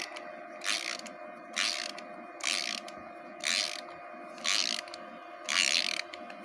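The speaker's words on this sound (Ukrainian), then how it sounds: "Шайба, тоді болт і викручуємо." A ratchet wrench works a bolt and washer loose on an OROCH corn header, six evenly spaced bursts of rasping clicks over a steady low mechanical hum, close by with no talking.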